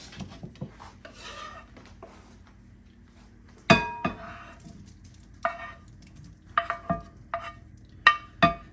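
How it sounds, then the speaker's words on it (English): Hot sausage spooned into a whisked egg mixture for frittatas, with soft scraping rubs and a string of sharp clinks of a spoon against the bowl, close and uneven. "Next, I'll add my sausage."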